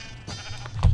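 A single sheep bleats in the video game Minecraft, a short wavering cry that swells loudly near the end of the second, heard alone without talk.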